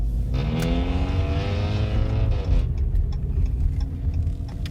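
A car engine revs, its harmonics climbing and holding steady, then dropping back to a lower rumble with a few ticking clicks, loud and close throughout with no talk.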